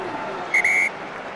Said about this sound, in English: Whistle, whistle, whistle.